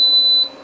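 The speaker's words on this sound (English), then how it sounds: "Sorry for that beeping" A steady high electronic beep rings from a Gourmia French Door XL air fryer oven while baking chocolate peanut butter oat bars, a sustained tone that drops off partway through, close and fairly loud over a low fan hum.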